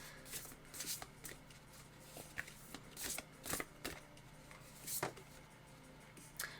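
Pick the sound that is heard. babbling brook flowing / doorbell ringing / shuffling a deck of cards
shuffling a deck of cards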